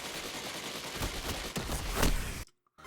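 Rapid gunfire in a Destiny 2 Crucible match, a dense, loud stream of shots with heavier bursts around the middle, then a sudden drop to near silence before a faint return.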